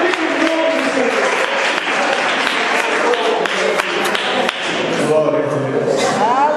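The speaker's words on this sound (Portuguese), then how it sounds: "Salva de palmas para o Jesus" A church congregation gives a round of applause for Jesus, with steady, dense clapping filling the room, mixed with voices and occasional thumps throughout.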